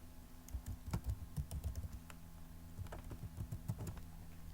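A password is typed on a computer keyboard during a Linux Mint installation, producing quiet, irregular key clicks in uneven bursts with short pauses, close and faint, with no voices.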